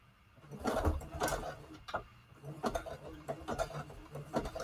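A sewing machine zigzag stitches across a paper junk journal tag, running in short uneven bursts with brief pauses between them and a steady mechanical hum throughout.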